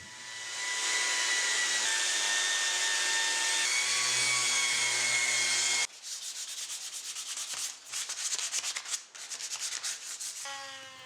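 A Dremel rotary tool grinds glue out of the grooves of a 1930s wooden rocking chair. A steady high whine with sustained abrasive rubbing gives way to shorter, choppy bursts of grinding against the wood, close and loud, with no speech.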